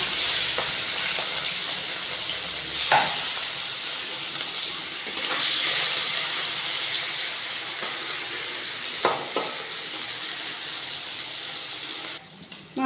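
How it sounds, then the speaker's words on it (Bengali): Shrimp coated in salt and turmeric fry in hot oil in a wok, giving a steady, close hiss and sizzle with a few brief sharper crackles. No one talks, and the sound cuts off abruptly near the end. "চিংড়ি মাছটা ভালো করে লবণ হলুদ মাখিয়ে নিয়েছি ভেজে নেব"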